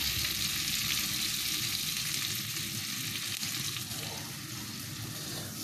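Asparagus roasting in a pan with vinegar gives off a steady, close, broadband sizzle and crackle that holds at the same level throughout, with no voices over it.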